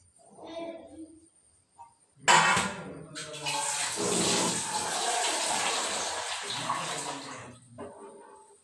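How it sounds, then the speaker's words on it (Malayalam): Water is poured into cooked lentils and spinach for a curry, a splashing pour that runs steadily for several seconds at close range after a brief rustle, with faint voice-like sounds at the start. "ആവശ്യത്തിന് വെള്ളം ഒഴിച്ചു കൊടുക്കാം."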